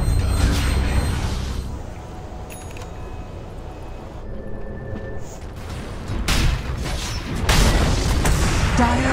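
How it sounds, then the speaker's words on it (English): A Dota 2 tower under attack and collapsing in a ranked match, with heavy booming impacts and bursts of crashing blasts, a quieter stretch of clanking in the middle, then loud rumbling destruction building at the end. "Dire's middle tower is under attack."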